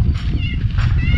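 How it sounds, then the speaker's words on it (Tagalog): A house cat meowing close by in a home in the Philippines, a short, loud, drawn-out cry over low background rumble. "Uy! Meow, meow, meow!"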